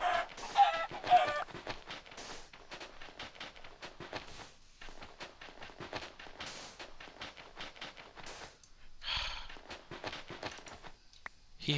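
Video game chicken clucking in rapid, repeated bursts with a few higher squawks, fairly close and steady throughout, with no talk over it.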